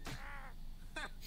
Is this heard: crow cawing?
yes